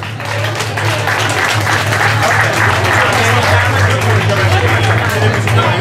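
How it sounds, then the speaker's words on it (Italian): Dense audience applause at a slalom car race awards in Oppido Mamertina, steady and loud throughout, with a low hum and chatter mixed underneath. "Applausi per loro, grazie."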